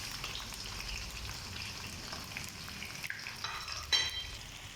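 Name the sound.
sliced onions frying in hot ghee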